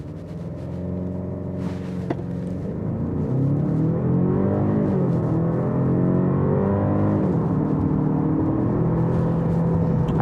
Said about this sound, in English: I'll switch the drive mode here into sport, and let's go ahead and see what we can get 0 to 60 wise.